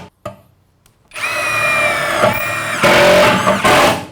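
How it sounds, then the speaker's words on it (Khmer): A KOTEC Model X impact wrench drives a steel screw, starting with a few short clicks and then a loud, sustained high-pitched whine with a rising, strained tone that runs for about three seconds. "ឥឡូវយើងបាញ់ជាមួយនឹងវីសដែកបាទ"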